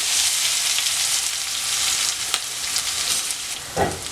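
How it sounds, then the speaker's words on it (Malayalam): Crushed dried red chillies and onion frying in hot oil, a loud dense continuous sizzle with a few faint clinks and a low knock near the end. "ഇനി ഇത് നല്ലതുപോലെ ഒന്ന് മൂപ്പിച്ചെടുക്കണം അപ്പോൾ ഈ വറ്റൻമുളക് ഉള്ളിയും കൂടെ ചതച്ചെടുത്തത് നല്ലതുപോലെ ഒന്ന് മൂത്ത് വരട്ടെ"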